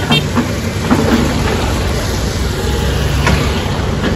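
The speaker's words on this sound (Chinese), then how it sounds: "抢修时不时降雨，也影响救灾的进度" Rain pours down steadily during a typhoon in a mountain area, loud and close, with faint rumbles of thunder beneath the constant downpour and no talk.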